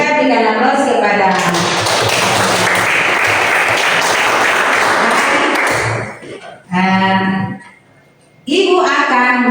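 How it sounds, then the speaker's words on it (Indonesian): A classroom of students bursts into loud, dense applause lasting several seconds. It fades out, and a voice speaks before and after. "kita berikan aplaus kepada"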